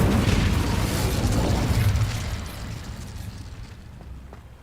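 The Incendio fire spell in Hogwarts Legacy bursts in a loud, roaring whoosh of flame that holds for about two seconds, then fades into a softer crackling tail.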